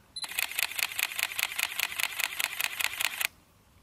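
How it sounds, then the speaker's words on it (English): A Sony Alpha A7R II mirrorless camera fires its shutter in continuous shooting with electronic first curtain, a rapid even burst of about fifteen crisp clicks lasting three seconds, close and isolated, then stopping abruptly. "Let's have a listen to the new shutter sound."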